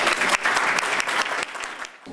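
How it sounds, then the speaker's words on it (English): A lecture audience gives Dr. Salerno a brief, loud burst of clapping from many hands, close and lively at first, then thinning out within about two seconds. "let's give another round of applause for Dr."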